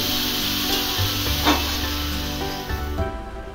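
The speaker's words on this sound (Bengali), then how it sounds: "এবারে এই আলু আর কুমড়োটাকে সমস্ত মশলার সাথে মিশিয়ে নিচ্ছি" Potato and pumpkin pieces stirred with spices in a hot frying pan, a steady close sizzle with occasional scraping strokes of the spoon throughout, no talking.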